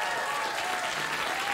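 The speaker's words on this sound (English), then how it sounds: "when the audience starts to clap along" A talk show studio audience applauds in a dense, steady wash of clapping that holds level throughout the brief moment.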